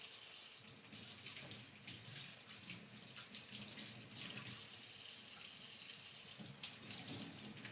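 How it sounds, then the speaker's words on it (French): Tap water runs steadily into a kitchen sink while eggplants are rinsed, a constant close hiss and splash with no talk over it. "En attendant que les oignons suent, je rince mes aubergines."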